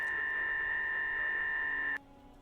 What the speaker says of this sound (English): Modem sounds.